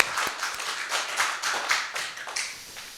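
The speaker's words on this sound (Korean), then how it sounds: "우리 하나님께 다시 한번 영광의 박수 올려드리겠습니다" A church congregation at a Thanksgiving Sunday service claps to glorify God, a close, uneven patter of hand claps with sharp individual hits and no talking.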